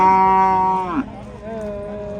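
Cows and calves mooing at a busy livestock market: one long, loud, close moo that bends downward, followed by a quieter lowing call, with faint market background.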